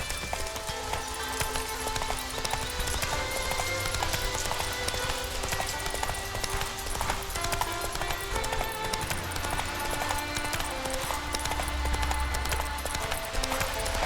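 Horse hooves clip-clop at a steady galloping pace throughout, set against a continuous backdrop of in-game music and ambience in The Witcher 3, with a brief bit of voice in the mix.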